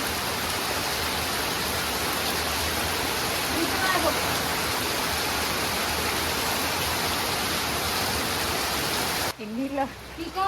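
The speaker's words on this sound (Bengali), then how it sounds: "এই যে বৃষ্টি নামছে।" Heavy rain pouring down at a new house in a village, a dense, loud, steady hiss that fills the scene before cutting off abruptly, after which people can be heard talking.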